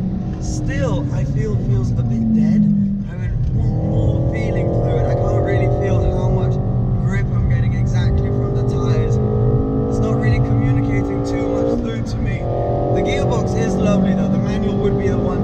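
Engine drone from a Renault Megane R.S. hot hatch with a manual gearbox, steady while driving and rising in pitch through the gears, with someone talking over it throughout.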